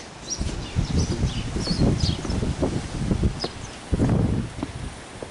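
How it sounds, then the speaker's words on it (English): Steady outdoor wind buffeting the microphone with rustling, continuous and fairly loud, a faint bird chirp now and then. "It's a bit windy."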